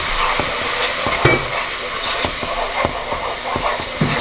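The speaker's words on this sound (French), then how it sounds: "vous faites revenir les épices dedans" Spices frying in a pan of onions for a chicken or prawn curry, with a steady close sizzle and repeated stirring scrapes at an uneven rhythm throughout.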